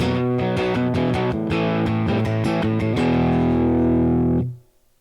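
Electric guitar through a Boss Katana amp with light reverb, playing a distorted riff of rhythmic chords for about three seconds, then one long sustained chord that rings out and cuts off near the end.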